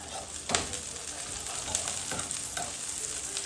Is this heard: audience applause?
no